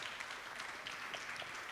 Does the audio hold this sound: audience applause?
yes